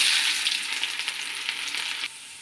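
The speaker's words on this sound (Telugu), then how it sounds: "ఆవాలు వేసేద్దాం. కొంచెం జీలకర్ర, తరిగి పెట్టుకున్న ఎర్రగడ్డ." Mustard seeds, cumin and chopped onion (red onion) frying in hot oil for a tempering, giving a steady close crackling sizzle throughout that eases slightly near the end.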